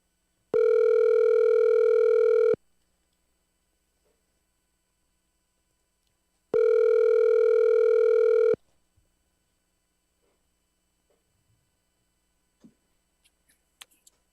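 Telephone ringback tone while a call is being placed, two long steady beeps about two seconds each separated by a silence, followed by quiet with a few faint clicks and handling taps.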